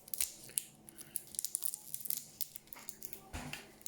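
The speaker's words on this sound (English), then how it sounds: "Let's see if I can get open with the scissors." Scissors snip and tear at plastic packaging around a UNI/Siterwell IAN 283702 photoelectric smoke alarm, making close, irregular crunchy cuts and crinkles with a soft rustle between them.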